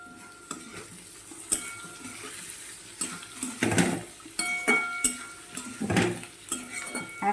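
Chopped coriander being stirred into a dry sweet potato dish in a pan, a spoon repeatedly scraping and clanking against the metal amid a light sizzle, in uneven bursts of mixing with no talking.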